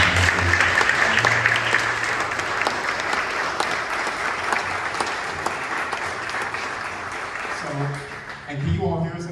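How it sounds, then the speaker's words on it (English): Loud, sustained audience applause at an awards breakfast for scholarship recipients, a thick wash of many hands clapping that carries on for several seconds before a voice begins near the end. "Give them a round of applause."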